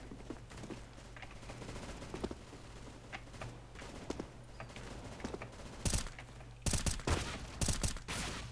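Rapid gunfire crackles through a Counter-Strike: Global Offensive match, scattered shots and bursts at moderate distance that grow denser and louder toward the end, with no speech.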